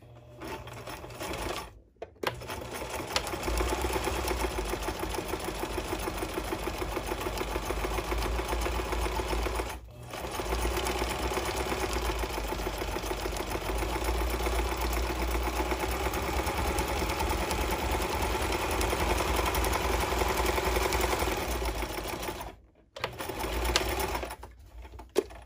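A sewing machine stitches a placemat seam at short stitch length in long, loud, steady runs, pausing briefly twice for backstitching at the ends, with a faint whirr and clicks between bursts.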